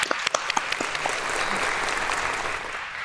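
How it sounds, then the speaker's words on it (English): A crowd at a deep learning event breaks into applause: a few sharp individual claps first, then a full, sustained patter of many hands for about three seconds. "I think this is applause."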